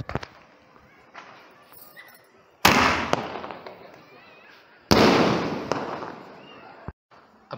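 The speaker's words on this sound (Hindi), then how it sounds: "तो चलिए अब इसको टेस्ट करते हैं, देखते हैं कैसा है हमारी ये तीनों स्काई शॉट।" Eagle Pentagon Fantasy sky shot fireworks go off outdoors with two loud, crackling bursts about two seconds apart, each followed by a fizzing, popping tail. Faint sounds come between the bursts.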